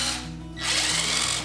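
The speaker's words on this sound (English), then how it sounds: "I needed to drill a hole to attach the cables to the box and the solar tank." A power drill bores a hole through a cabin wall for solar power cables, its motor whining steadily and loud, then rising in pitch as the bit bites through about halfway in, alone with no talk.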